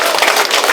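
A large crowd of local residents applauds at a campaign office opening for a county candidate, giving a brief burst of loud, dense clapping close by.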